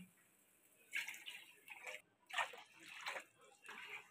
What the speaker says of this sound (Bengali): এই সময় আমি বাটি মেপে জলটা দিয়ে দিচ্ছি।